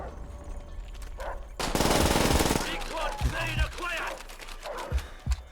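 A PPSh submachine gun fires in the Call of Duty WWII video game, one dense rapid burst followed by scattered shots and in-game effects, with some talk alongside.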